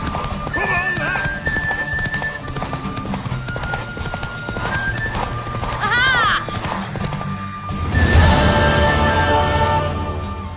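Hooves of a mare gallop in The Witcher video game, a steady fast clip-clop with a whinny, layered under music and other game sounds, with a louder surge near the end.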